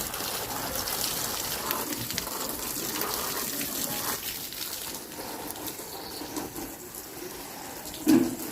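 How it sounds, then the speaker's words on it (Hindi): Water is sprinkled a little at a time onto the soil in potato-planting tubs, a close splashing trickle and gush that pauses and resumes, ending in a brief knock. "सभी टब में थोड़ा थोड़ा पानी का छिड़काव मैं कर रहा हूँ आपके सामने।"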